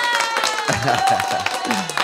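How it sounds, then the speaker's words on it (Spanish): A studio audience breaks into light clapping alongside music, a busy patter of hands mixed with tonal sounds, while people speak and laugh over it. "Con aplausito, cómo no."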